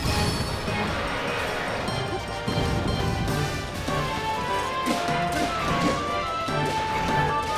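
A heavy crash and thuds as an enemy slams down to the ground in the Tears of the Kingdom video game, loud and dense over a busy game soundtrack with no talk.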